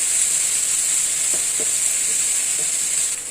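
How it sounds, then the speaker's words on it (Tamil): Small onions sauté in a pan for a thick onion thokku relish, giving a steady bright sizzle throughout, with a few faint clicks of stirring and no one speaking. "இப்போ நம்ம சுருள நல்லா வெங்காயத்தை வதக்கிக்கலாம்."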